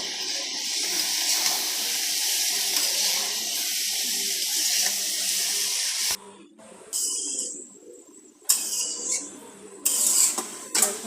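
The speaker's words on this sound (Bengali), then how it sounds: "এগুলা দিয়ে দিলাম কড়াইতে এগুলো আমি ভেজে নেব" Radish, salted and mixed with turmeric, frying in a hot kadai, heard as a loud, steady hiss for several seconds that then breaks into shorter sizzling bursts with near-silent gaps, close by and alone.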